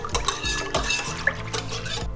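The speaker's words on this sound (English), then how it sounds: "we're just gonna whisk this together until it's mostly dissolved." Yeast and salt whisked together in a bowl for a no-knead homemade bread, giving a quick run of light clinking, scraping strokes against the bowl, close and fairly loud, with no talking.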